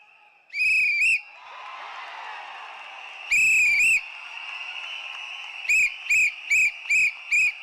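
Whistles blown repeatedly at a Tamil political rally, shrill trilling blasts: a long double blast, another long pair, then a quick run of five short toots, all loud over crowd noise.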